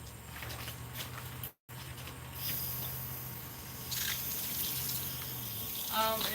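Water runs from a tap to fill a balloon, a soft continuous gush with a brief dropout, later brighter splashing near the end; faint background activity.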